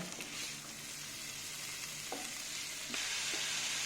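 Onions sautéing in a pan while being cooked until reddish, a faint, steady sizzle with a few soft stirring clinks and scrapes.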